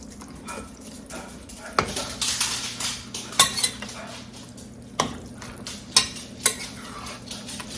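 Wet cornbread-style dressing for baked Cornish hens is handled in a kitchen, with scattered clinks and scrapes of a utensil against a metal pan, soft wet stirring, and a few sharp knocks under quiet background sound.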